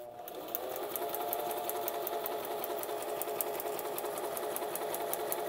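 A Singer Tradition sewing machine runs under foot-pedal control, a close, steady rapid mechanical whir with fast even stitch ticking that starts after a brief pause and keeps a constant speed to the end.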